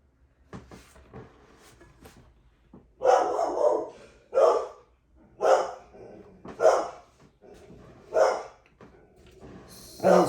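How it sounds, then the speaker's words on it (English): A dog barks repeatedly, six or seven loud, evenly spaced barks after a quiet start, close by with no one talking. "I don't stop her from barking anymore."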